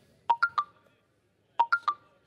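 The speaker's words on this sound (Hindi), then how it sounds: "चालू शो में फोन बज रहा है तेरा" A mobile phone goes off during a live film festival awards show, sounding two clean bursts of three quick rising electronic tones separated by a pause, loud and alone.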